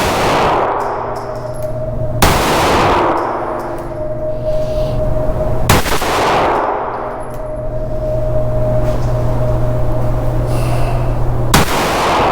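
Taurus GX4 9mm compact pistol fired at a target, with three sharp, loud shots spaced a few seconds apart, each cracking out over a steady low hum and ringing briefly.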